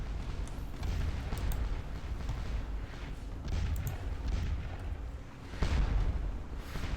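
Artillery fire rumbles in Scourge of War: Waterloo, a Napoleonic battle defending the sunken road, with low, distant booms over continuous battlefield noise and a stronger blast near the end.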